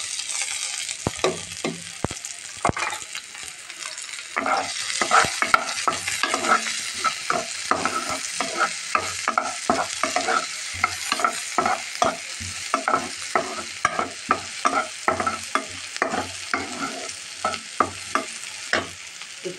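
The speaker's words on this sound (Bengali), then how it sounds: "আজকে আমি সরষের তেল দিয়ে ফোড়নটা দিব" Onion, garlic and dried chili fry in mustard oil as a continuous close sizzle, broken by frequent rhythmic scrapes and stirs of a spatula in the pan, with no talking.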